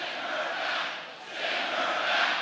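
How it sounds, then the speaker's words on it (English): A large crowd at a Trump rally in North Carolina chanting in unison, a broad sustained roar that swells, dips briefly in the middle and rises again. "Then on Wednesday, the crowd at a Trump rally in North Carolina chanting,"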